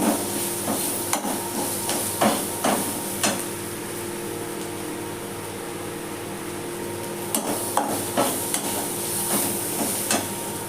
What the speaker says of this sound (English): So I'm adding the Maggi masala to it. I'm going to again give it a stir.